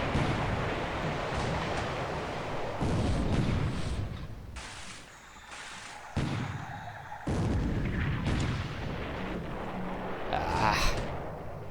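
Naval gunfire from a World War II Pacific strategy game, heavy artillery booms striking a light cruiser, with repeated loud blasts and rumbling surf-like noise in uneven bursts throughout.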